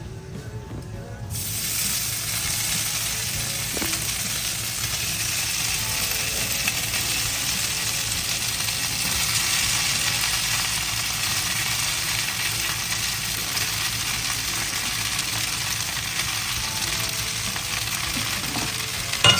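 Idli pieces sizzle and fry steadily in a hot pan with dried red chillies while being stirred, giving a loud continuous hiss with occasional scraping clinks throughout.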